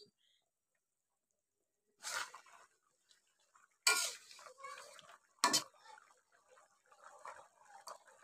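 A pot of rupchanda pomfret curry with taro stolons is stirred in three separate clattering bursts of metal spoon against the pot, followed by softer scraping and clinking in an otherwise quiet kitchen.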